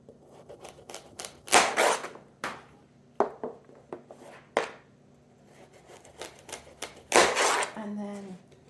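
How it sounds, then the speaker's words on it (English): A knife chopping the ends off vegetables for chicken soup, a series of sharp irregular thuds and clacks on a cutting board, some louder than others, with quiet gaps between. "So I'm just going to cut the ends off."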